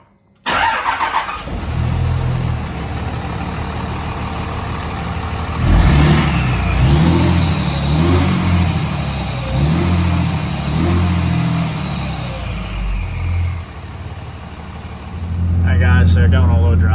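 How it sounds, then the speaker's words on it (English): Cummins 5.9 diesel engine fitted with an S&B intake cranks and starts, then idles and takes several rising revs before settling, loud and close throughout. "We're going to do a little startup, little revs, go for a drive, see if it sounds any different"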